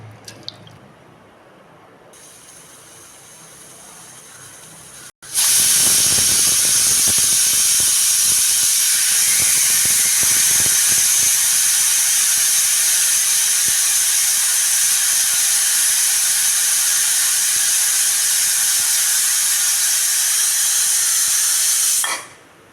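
A pressure cooker on a gas stove, holding vegetables for thalicha, gives off a loud, sustained steam hiss from its whistle that starts abruptly after a quiet stretch, holds steady for about seventeen seconds, then cuts off.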